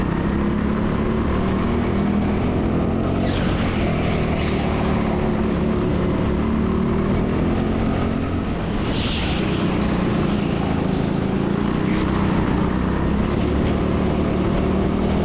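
Go-kart engines drone continuously on the TeamSport indoor track in Sheffield during a 50-lap race, a loud steady buzz with slight rises as karts pass nearby.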